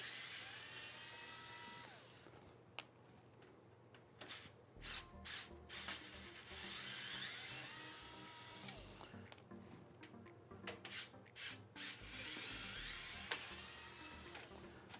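Electric screwdriver driving screws into a Hyte Y70 PC case during a high-end build, heard as repeated whirring bursts with rubbing and scraping between them, close and fairly loud.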